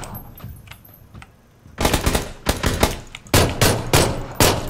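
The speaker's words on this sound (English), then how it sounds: "Oh shit, now I'm getting shot at" Bursts of automatic gunfire in the video game PUBG, loud and close, firing in several rapid volleys after a quieter stretch with faint clanking.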